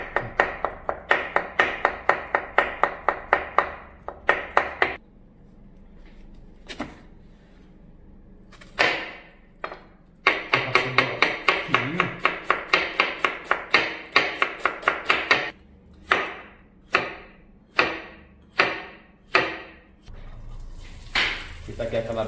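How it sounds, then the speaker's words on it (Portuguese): A knife slices calabresa sausage thinly on a cutting board in a home kitchen, giving rapid runs of crisp, rhythmic taps close up, broken by short pauses and a few slower, separate cuts. "você vai assim, cortando bem fininho"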